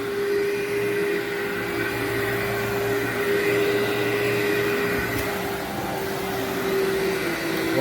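A Workhorse vacuum cleaner runs over berber carpet full of pet hair, giving a close, continuous motor whine with a steady hum and airy rush that stay constant throughout.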